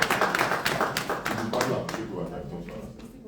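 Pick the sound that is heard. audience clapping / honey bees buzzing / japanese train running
audience clapping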